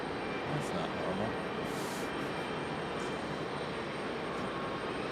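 A steady broadband roar of a Boeing 777 airliner's engines fills the scene as it taxis at Raleigh-Durham airport, distant and unchanging, with faint brief clicks on top.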